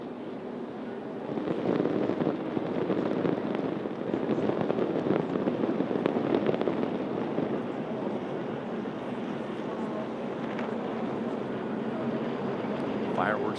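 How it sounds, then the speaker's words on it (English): Pre-race fireworks burst before a 2008 NASCAR Sprint Cup race, the Bank of America 500, with repeated sharp pops and crackles over a dense, continuous roar from the track. "Fireworks going off before this one."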